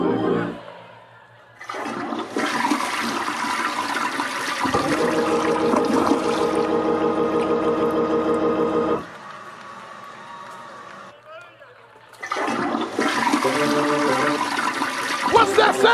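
A toilet flushes loudly in a long rushing surge of water that fades into a quieter trickle, then a second rush of water swells back up near the end.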